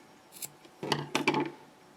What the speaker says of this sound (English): Then you can trim your excess string.